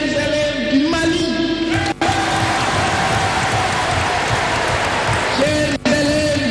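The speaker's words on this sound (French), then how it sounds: "ensemble on va applaudir chers élèves du Mali" An audience applauds students from Dakar and Mali, with dense, sustained clapping that fills the space loudly throughout, mixed with crowd noise and tonal sounds from a public address system, briefly cut twice.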